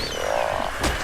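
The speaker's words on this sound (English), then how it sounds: "I didn't necessarily mean to kill the frog" A frog croaks in the video game ARK: Survival Evolved, a single short, low, throaty call close up with a brief burst of game noise at the end.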